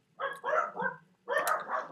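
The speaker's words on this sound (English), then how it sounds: "Those are my 2 dogs, Jackie and Shaky." Two pet dogs bark in short bursts, three quick yaps, a pause, then three more, close by with no talking.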